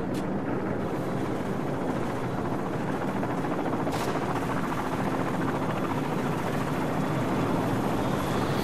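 Helicopter rotors thump steadily in a Call of Duty 4: Modern Warfare battle scene, loud and continuous, with bursts of gunfire mixed into the dense combat noise.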